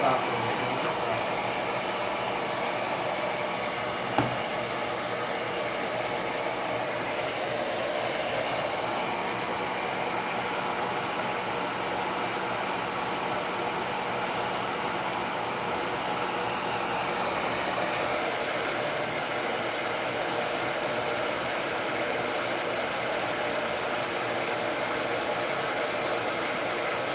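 Hair dryer blowing on a resin plaque, a steady loud whooshing hiss that runs unbroken throughout, with a single faint knock early on.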